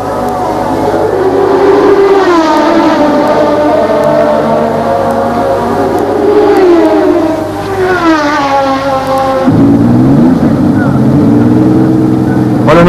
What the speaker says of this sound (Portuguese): O motor de Nakajima já não rende bem.